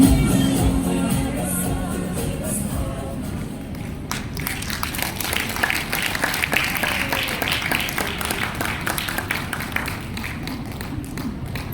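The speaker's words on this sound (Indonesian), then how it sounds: "Tepuk tangannya kurang mantep deh kayaknya." Congregation at a church Christmas service claps in a scattered, moderate round of applause, with a few taps and thuds, following the end of a sung passage.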